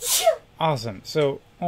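A single sharp sneeze bursts out at the start, followed by a person talking.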